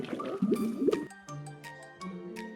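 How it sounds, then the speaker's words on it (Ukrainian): A cooking potion in the Roblox game 99 Nights in the Forest bubbles with soft gurgling, squishy blips and a few drips, moderately quiet and without speech. "Блін, прикольно так булькати."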